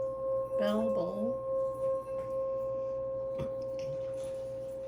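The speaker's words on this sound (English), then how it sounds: "I am going to" A small bell or singing bowl is struck once during a tarot reading, leaving a pure, steady ringing tone that sustains and slowly fades across the clip. A brief voice and faint handling sounds come early on.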